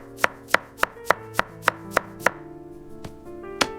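A knife chops peeled potatoes into fry sticks on a board: eight crisp, evenly spaced knocks with ringing pitched overtones in the background, a short pause, then two more cuts. All close and clear, with no talking.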